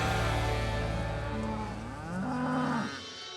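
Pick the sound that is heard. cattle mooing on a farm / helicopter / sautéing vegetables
cattle mooing on a farm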